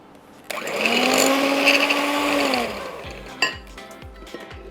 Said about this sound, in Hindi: टू फास्ट, मेरे लिए बहुत फास्ट है ये मशीन